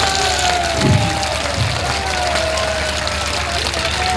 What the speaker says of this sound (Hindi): बजाते रहिए जब तक आपकी फोटो न हो जाए, बजाते रहिए।